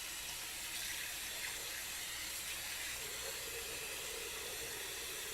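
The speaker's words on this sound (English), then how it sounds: "we have to wash this chicken for the second time" Steady water runs from a kitchen tap while cut chicken pieces for Hyderabadi chicken curry are washed, a continuous hissing splash at moderate distance with no talk.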